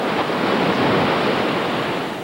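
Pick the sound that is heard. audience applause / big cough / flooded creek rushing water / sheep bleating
flooded creek rushing water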